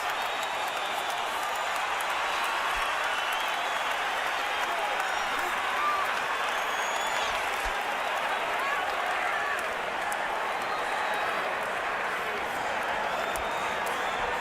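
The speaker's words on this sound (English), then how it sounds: "The crowd's on its feet." Boxing arena crowd at Pacquiao vs Marquez III in Las Vegas, on its feet cheering and applauding in a dense, steady roar that holds at full volume throughout.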